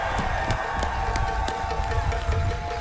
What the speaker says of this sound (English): Let's give a round of applause to you guys.